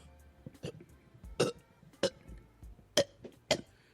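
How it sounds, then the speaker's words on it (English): A few short coughs from a person driving down a highway in a car, spaced about half a second apart and loud against quiet cabin noise, with no talk over them. "Got a little cough."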